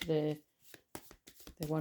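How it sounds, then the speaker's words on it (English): A deck of cards is shuffled in a short, rapid flutter of papery riffles, heard between stretches of someone talking. "let's shuffle some of these cards"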